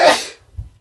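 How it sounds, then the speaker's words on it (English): A single sharp sneeze blasts close into a podcast microphone, loud and abrupt, then trails off into a soft breath and quiet. "Sneeze into the mic like a man."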